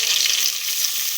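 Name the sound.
mint leaves frying in a pan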